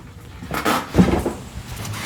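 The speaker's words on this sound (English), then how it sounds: "Let me close this door." An indoor door being pushed shut, a soft thud with a short rattle and knock, moderately loud and close, with no talk over it.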